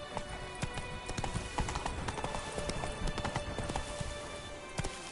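Roach the horse gallops hard in The Witcher 3 on PS4, a dense, steady drumming of hooves that carries through the whole stretch, with faint patter like rain behind and no talk.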